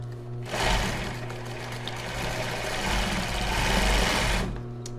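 A sewing machine runs steadily for several seconds, a close, continuous mechanical whir that starts and stops abruptly, while stitching a crossed-back bra base.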